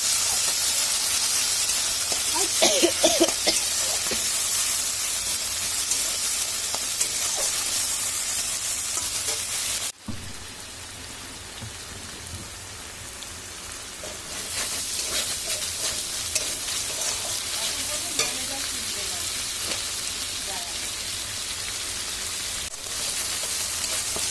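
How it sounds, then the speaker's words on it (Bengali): Black cumin, ginger and poppy seeds sizzle in hot oil while rui fish is cooked, a loud bright hiss with scraping stirs early on, cutting off sharply midway before a softer sizzle returns. "কিছুটা কালো জিরে ফোড়ন দিয়ে দিচ্ছি এর মধ্যে আছে আদা জিরে আর কিছুটা পোস্ত"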